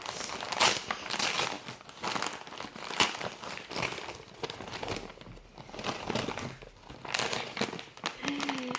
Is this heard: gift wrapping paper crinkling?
yes